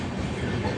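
A Mumbai CSMT–Chennai Egmore 22157 Mail superfast express train runs steadily just after leaving Rajampet, giving a dense, continuous rumble of wheels and carriage noise heard from on board, close and loud without pauses.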